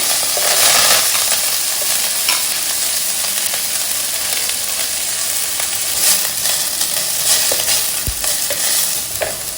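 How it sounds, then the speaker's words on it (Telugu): Coriander leaves fry in a pan for a chutney, a steady loud sizzle and crackle with stirring scrapes throughout and no talk. "తర్వాత ఈ కొత్తిమీరని వేయించుకోవాలి"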